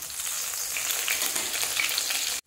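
Sweet corn chops frying in hot oil in a pan: a steady, loud, close sizzle that crackles evenly throughout, with no talking, stopping abruptly right at the end.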